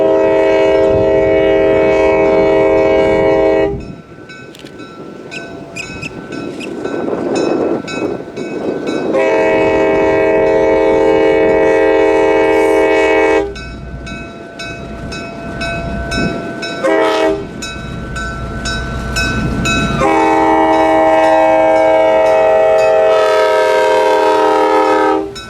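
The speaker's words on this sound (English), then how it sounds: "the cane train was soon en route towards Clewiston with its gorgeous little leader" A US Sugar Corp cane train passes near Clewiston, its loud multi-tone horn sounding in long repeated blasts between stretches of rumbling, clattering wheels as it goes by close.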